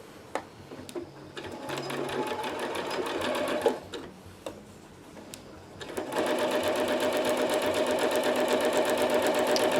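A sewing machine stitching hyper D ripstop fabric for an ultralight hammock: uneven short bursts of running and stopping, then a steady, fast mechanical whir that holds to the end, close and clear.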